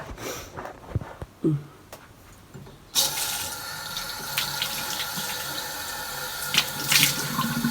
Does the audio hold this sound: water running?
yes